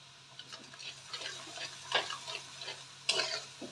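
Ground turmeric, cumin, coriander and chili powder fry in hot oil, giving a faint, close sizzle with light stirring scrapes and irregular crackling bursts.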